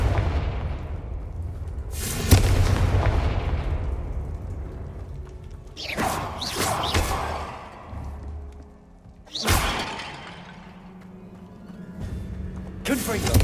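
Several Confringo fire-blast spell explosions in Hogwarts Legacy, sharp booming impacts spaced a few seconds apart, each followed by a decaying rumble, with sparse game ambience between them.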